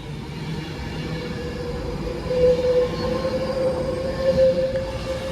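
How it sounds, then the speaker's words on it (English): An Avanti West Coast Edinburgh to London Euston service rolling into Wigan North Western station, with a steady rumble of wheels and a thin, sustained wheel squeal rising over it, fairly loud and nearby. "here's the 1131 Avanti West Coast service from Edinburgh to London Euston"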